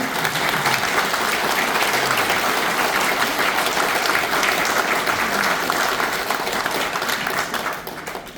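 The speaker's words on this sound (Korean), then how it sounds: "다 함께 큰 박수를 한번 좀 쳐주시기 바랍니다" A large audience claps loudly and steadily at a launch rally held at the Korea Press Center press club, a dense unbroken wash of applause that fades slightly at the end.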